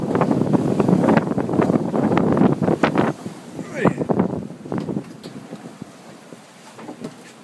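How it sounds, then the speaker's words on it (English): Strong headwind buffets a sailboat at sea on an Azores to Fuerteventura passage, a loud roaring gust with wind noise on the microphone for the first few seconds, then easing into gustier, lighter rushes and scattered splashes. "the wind strength's okay. It's coming right on the nose"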